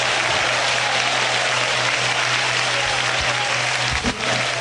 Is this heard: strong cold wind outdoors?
no